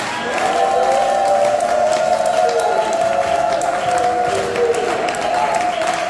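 Congregation at a women's church conference applauding and cheering together, a steady dense roar of clapping and voices that holds loud and unbroken throughout.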